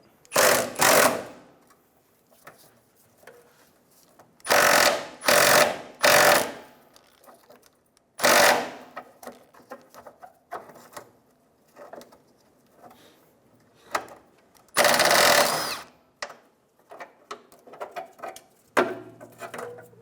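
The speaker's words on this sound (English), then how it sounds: "Remove the 12mm nut on this connection bracket." Close ratchet clicking in several separate bursts as a 12mm nut comes off a fuel tank connection bracket on a 2000-2006 Toyota Tundra, with quiet metallic handling sounds between the bursts.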